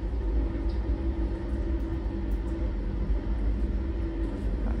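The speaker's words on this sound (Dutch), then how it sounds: "Goh, die vaatwas begint nu echt lawaai te maken." A household dishwasher runs noisily with a steady, loud low rumble and drone that fills the whole stretch without letup, no voices over it.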